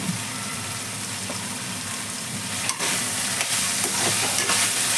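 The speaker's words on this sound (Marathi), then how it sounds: "आता मी वांग टाकत्या बघा वांग टाकलंय" Loud, steady sizzling and frying as brinjal pieces go into a hot pan of Konkani shrimp masala, with stirring scrapes and a brief clatter partway through.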